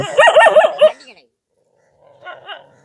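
A dog barks and growls in a few rough bursts in the first second, then a short fainter pair of barks follows after a pause. The setting is the home of an elderly couple who live with several dogs in Kaluvanchikudy.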